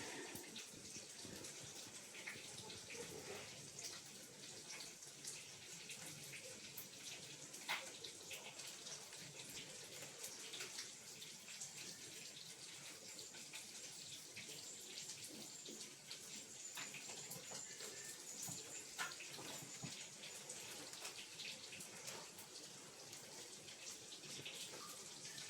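Water runs steadily from a tap while mulamkoobu is rinsed several times in a kitchen for thoran, a faint continuous splashing and trickling that lasts throughout.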